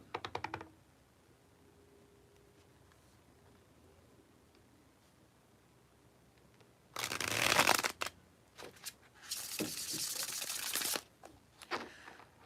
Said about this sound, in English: Scoot these cards on up.